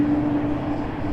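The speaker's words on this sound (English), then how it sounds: "Enjoy the sounds of the A220." Airbus A220 airliner at Raleigh Durham International Airport, a steady engine drone with a sustained tonal whine, heard briefly at moderate distance.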